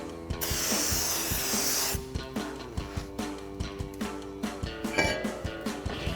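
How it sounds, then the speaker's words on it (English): A short burst of brake cleaner aerosol spray hisses for over a second on a Jeep Wrangler JK brake part, followed by a run of rhythmic rubbing strokes as it is wiped with a microfiber towel. "So grab brake clean and a microfiber towel, spray it down and wipe it down."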